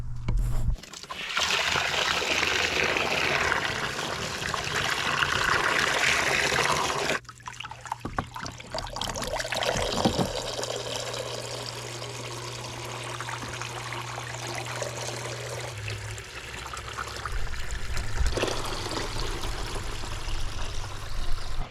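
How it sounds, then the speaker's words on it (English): Water from a garden water feature pump trickles and splashes continuously at close range, with a steady pour whose texture shifts slightly partway through. "Love the sound of running water, you know?"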